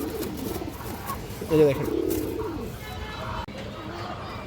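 A pair of green-necked pigeons coos softly nearby, a brief low burst rising briefly in the middle, while someone talks over the birds.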